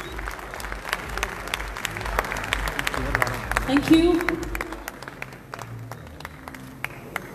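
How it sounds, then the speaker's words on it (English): Audience applause at an IBBF Federation Cup bodybuilding competition, a sustained crowd clapping that swells in the middle and fades, with a brief announcer voice over it. "give them a huge round of applause also to all of the women over here"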